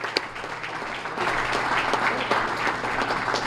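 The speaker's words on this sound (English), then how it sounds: "Give her a round of applause." An audience at a small business awards breakfast breaks into applause that swells after a moment into steady, dense clapping throughout the room.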